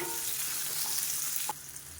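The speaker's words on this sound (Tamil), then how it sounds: "இப்போ எல்லாமே நல்லா வதங்கிடுச்சு அந்த வெங்காயத்தோட வாசனை வரணும் அந்த அளவுக்கு நல்லா வதக்கி விட்டுக்கோங்க" Onion, garlic, ginger and green chilli frying in a pan, a steady close sizzle that drops slightly in level partway through, with no voices.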